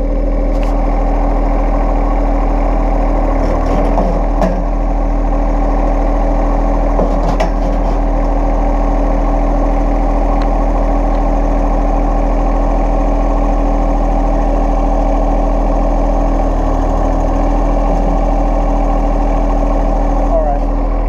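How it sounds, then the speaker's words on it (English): A tractor's heavy diesel engine idles steadily and loudly from start to finish, a deep constant rumble with a few clanks. "Lift it with El Tractor."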